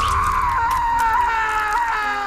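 A man named Brendan lets out a long, loud, wavering scream at the end of the horror film Wrong Turn 3, held for a couple of seconds.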